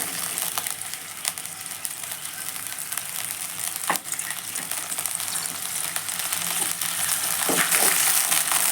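Jaggery with a little water melts and is stirred in a hot pan while making coconut laddu, a steady close sizzle and bubbling with occasional scraping clicks of the spoon against the pan, and no talking.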